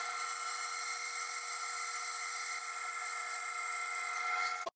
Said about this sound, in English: So now I can just cut my slices pretty quick.